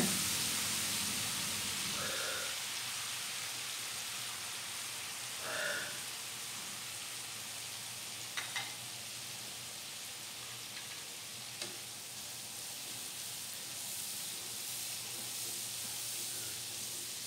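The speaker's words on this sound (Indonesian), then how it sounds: "ini aku mulai tumis bumbu-bumbunya" Spice paste for anchovy sambal sautéing in a pan produces a long, even hiss-like sizzle, with a few faint stirring knocks along the way.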